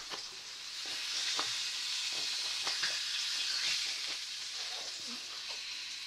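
A steak frying in a pan, a close, even sizzle with scattered crackles and occasional scrapes of a utensil against the pan.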